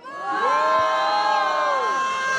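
Crowd at a rap battle vote in Londrina cheering and shouting loudly, a dense wall of whoops and voices rising quickly and sustained throughout.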